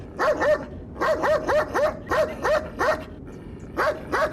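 A dog barks in close, steady repeated pairs and quick bursts, loud and insistent, about a dozen barks with short gaps between them.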